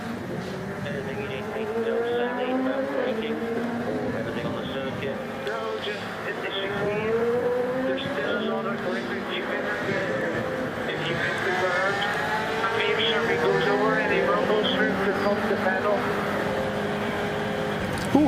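Engine sound from the TF Sport Aston Martin race car during the 24 Hours of Le Mans endurance race: a continuous high-revving roar with shifting pitch, heard under ongoing commentary.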